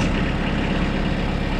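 A tractor engine runs at a steady low drone while mowing, constant and fairly loud with no other sounds.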